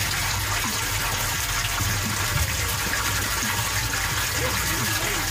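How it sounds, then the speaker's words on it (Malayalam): Water pours into a tank fitted with a homemade water-level alarm, a constant gushing wash that stays even throughout at moderate loudness, with no voices. "ഇപ്പം വെള്ളം നിറഞ്ഞുകൊണ്ടിരിക്കുകയാണ്."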